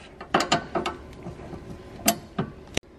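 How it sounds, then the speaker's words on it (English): A wrench works loose a sway bar end link on a BMW E46, giving a few sharp metallic clicks and ratcheting knocks in short, irregular bursts, close and clear with no talking. "Get a wrench, get it on there, and just pull it off."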